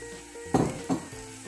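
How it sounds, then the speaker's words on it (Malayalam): Tamarind paste is poured into a pan of softened onions for ulli theeyal, giving two short bursts of sizzle and splash over a faint background hum, close and brief. "ഇതിലേക്ക് ഞാനിനി ഈ പേസ്റ്റ് ആക്കി വെച്ചിരിക്കുന്ന ടാമറിൻ്റെ ഒഴിച്ചു കൊടുക്കാണ്."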